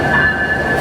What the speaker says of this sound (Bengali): এ পাশে একটি ট্রেন আসলো,